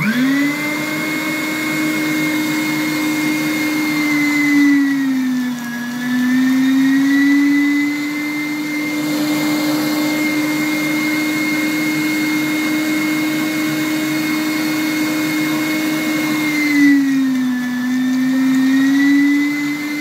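A SilverCrest electric mincer from Lidl grinds big chunks of meat with a loud, steady motor whine whose pitch dips briefly twice under load, close and continuous with no talk.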